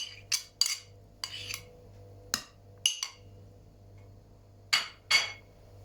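A grandmother's spoon scrapes orange zest into a cake or cookie batter, giving sharp intermittent clinks and scrapes of metal on a bowl, spaced irregularly, with a low steady hum beneath.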